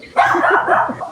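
A single short dog bark or yelp, close and fairly loud.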